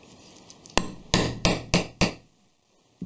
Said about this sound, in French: Un emporte-pièce de 10 mm. Alors, il va le percer.